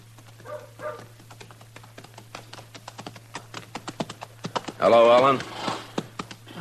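A horse is ridden up a town street in a radio western, its hooves clopping in a quick, uneven run of close taps that grow louder, with a voice speaking over them partway through.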